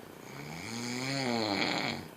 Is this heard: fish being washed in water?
no